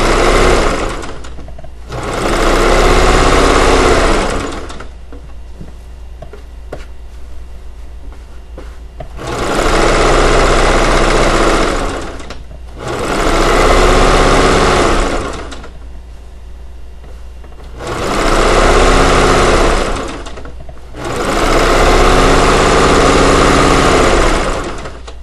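A sewing machine stitches a weighted blanket in four long, loud bursts of steady mechanical whirring, with short quieter pauses between runs.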